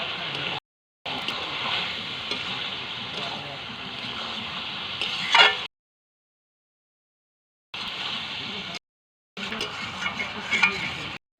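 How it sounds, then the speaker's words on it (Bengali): Chicken meat being stir-fried in a pan with turmeric, sizzling in bursts with a spoon scraping and stirring, broken by short silent gaps between sections. "মাংসটাকে এবার ভালো করে কষিয়ে নেওয়া হচ্ছে। এবার হলুদ দিয়ে দিচ্ছে।"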